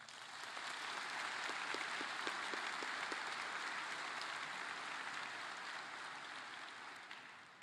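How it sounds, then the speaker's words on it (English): A graduation ceremony audience at Catawba Ridge High School gives sustained applause, an even wash of clapping that swells quickly, holds for several seconds, and fades slightly at the end, fairly distant and soft. "let's give them a round of applause"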